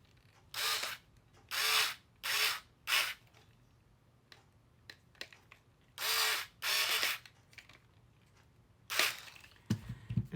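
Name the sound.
electric screwdriver driving screws into an RC car kit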